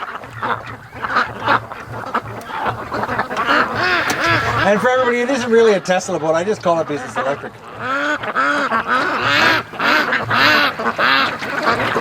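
Ducks quack repeatedly on a lake near a small electric, solar-powered boat, the honking calls coming in bursts over and under someone talking close by.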